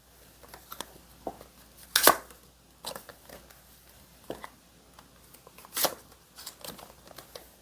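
Tarot cards being shuffled and drawn during a reading, giving scattered soft slaps and crisp riffling bursts at an uneven pace, close and fairly quiet with no talking.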